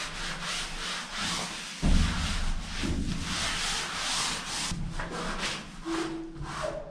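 Hands rubbing hard against a surface during container home framing and insulation work, a continuous coarse scrubbing close to the microphone that runs unbroken, with brief knocks and a short voice near the end.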